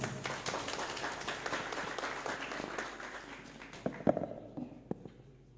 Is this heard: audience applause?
yes